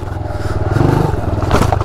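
Motorcycle riding down stairs and bottoming out, a loud pulsing engine rumble with rhythmic thumps and a scraping clatter as the suspension compresses.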